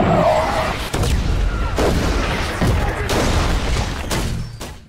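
Mortar rounds shell an airfield in a war film, a dense run of deep booms and sharp blasts landing every second or so over a constant roar of battle noise.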